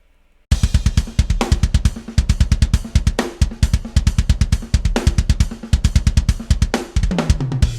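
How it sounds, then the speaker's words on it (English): A dry Invasion virtual metal drum kit with no reverb plays a steady, punchy groove of kick, snare and hi-hat, close and loud with no room echo. "So right out of the gate, it's a great sounding drum kit."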